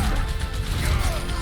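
A hefty ground-smashing shatter ability in an Overwatch match, a dense, loud crashing impact that fills the whole moment with rumbling debris noise and no pauses.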